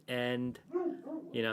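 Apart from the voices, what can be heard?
dog barking outside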